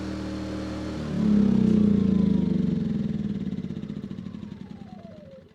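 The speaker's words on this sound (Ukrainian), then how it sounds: "У мене генератор прогрітий." A warmed-up petrol power generator's engine runs with a steady, loud hum, surges briefly, then gradually slows and winds down as it shuts off, heard close with no speech.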